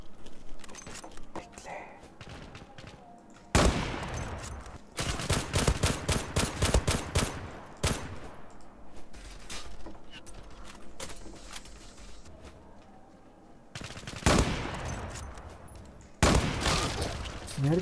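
Bursts of automatic gunfire and single shots from the online shooter game Zula, loud sharp volleys recurring across the stretch with gaps between, while a player talks over the game sounds.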